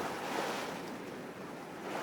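Waves wash against a fisherman's boat on the water at night in a steady, close surge of broadband water noise with light wind, no voices.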